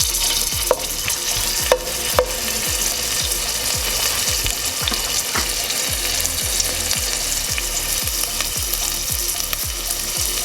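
Ginger sizzles steadily in a hot pan as the base for rice and peas, a constant close frying hiss with rhythmic stirring scrapes and a few sharp clinks.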